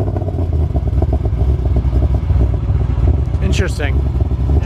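A Ford Mustang GT fitted with an ESS G3X supercharger, rated for about 50 pounds of boost, runs on a dyno with a steady, muted low drone, while a person briefly speaks over it.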